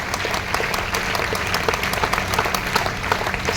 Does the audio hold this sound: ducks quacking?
no